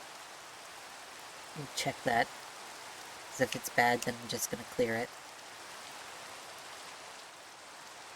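Minecraft rainfall keeps up a soft, constant wash in the background while someone talks in short bursts over it.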